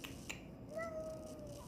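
A cat meows once in a drawn-out, rising-then-falling call, close and clear over a low room hum, with a short tap just before it.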